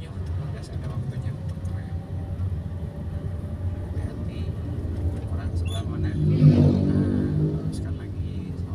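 A car's engine revs up mid-drive during a manual-transmission driving lesson, a steady low drone that swells and rises in pitch partway through, with voices talking over it.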